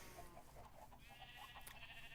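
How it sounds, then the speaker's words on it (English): Sheep bleating in Minecraft, a light blue sheep in vanilla survival play, a couple of short wavering bleats over a steady background hum with faint game sounds. "light blue sheep"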